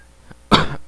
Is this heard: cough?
yes